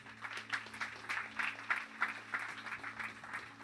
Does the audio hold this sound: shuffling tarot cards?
no